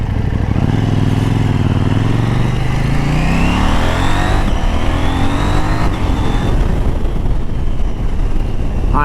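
A 2019 KTM Duke 790 motorcycle on its stock exhaust revs hard and close, its engine note climbing steadily in pitch through the gears, loud and continuous with no talk.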